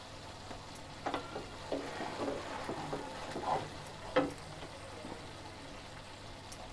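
Onions frying in a pan with spices, a quiet steady sizzle with soft stirring scrapes and small crackles and no voices.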